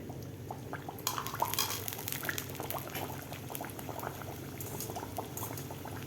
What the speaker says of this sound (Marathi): आपल्याला सुरुवातीला एक तळून घ्यायचं आहे व्यवस्थित आपल्याला तेलात सोडायचे आहे